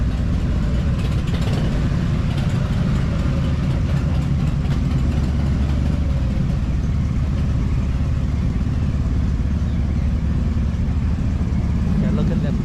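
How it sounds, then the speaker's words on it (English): Motorcycle engines idle steadily and loudly throughout while the bikes are loaded onto a ferry bound for Victoria, BC, with a low continuous rumble and voices faintly underneath. "So we're just loading our motorcycles onto the ferry"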